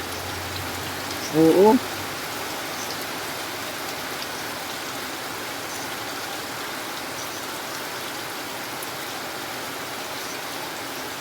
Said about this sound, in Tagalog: Grabe ang ulan na ito.